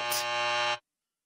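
A game-show style buzzer from a livestreamed quiz sounds once as a contestant buzzes in, a loud steady tone that cuts off abruptly, then silence.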